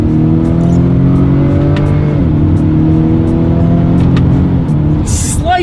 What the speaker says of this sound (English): So let's test out the paddle shifters.